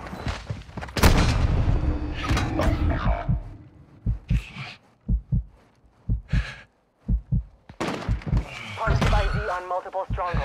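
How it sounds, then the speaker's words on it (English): Mortar strike explosions in a video game, with repeated heavy booms and thuds in uneven bursts, some close together, mixed with game voice lines. "Our mortar strike is inbound."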